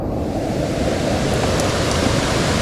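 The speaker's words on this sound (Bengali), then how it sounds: "এটাকে বলে শৈলপ্রপাত ঝর্ণা।" Shoilopropat waterfall in Bandarban on a rainy day roars with a dense, constant rush of falling water, loud and close, steady without pause.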